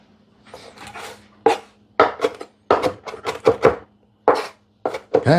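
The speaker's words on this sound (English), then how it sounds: "I'm just chopping this up right here" Knife chopping fresh parsley on a cutting board, close and loud, in quick irregular bursts of sharp chops separated by short pauses.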